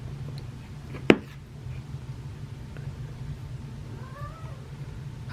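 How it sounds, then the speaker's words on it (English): A kitten meows in a home kitchen while cocoa mix is being made: a short, rising-and-falling meow, fairly faint, over a steady low hum, with a sharp knock just before it. "My kitten's making an appearance."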